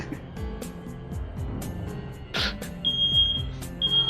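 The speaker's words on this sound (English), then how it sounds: "Oh, that's the fire alarm." A smoke alarm goes off with short, sharp high-pitched beeps repeating over a rumbling, busy background of other sounds, fairly loud and close.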